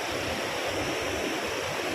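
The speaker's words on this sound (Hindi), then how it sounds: "ये नदी के किनारे देखो, नदी बह रही है" A river in Manali flowing past its bank, a steady, moderately loud rushing water noise with a low rumble, continuous and without voices.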